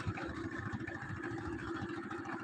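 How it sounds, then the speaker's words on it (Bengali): A motorboat engine putters on the Tanguar Haor wetland, a faint, even low-pitched drone with a quick pulsing throb, heard from some distance with no talk. "দেখতে পাচ্ছেন নৌকাতে করে হয়তো বাজারের উদ্দেশ্যে রওনা হয়ে গেল আরও কয়েকজন"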